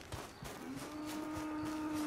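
Cattle, bulls, in the Red Dead Redemption video game, a sustained low bellowing moo rising and holding near, over a background of soft rhythmic thumps and ambient noise.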